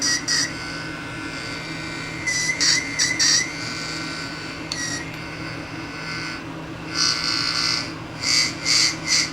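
Greenlee 200FP filter probe, repaired after being dropped, switched on and emitting a steady electronic hum, with faint high chirps and warbling tones coming and going over a constant background noise.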